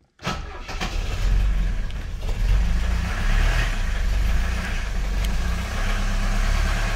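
A BMW 633 CSI car engine starting and then running steadily, heard close with a low, rough rumble that holds at an even level for several seconds.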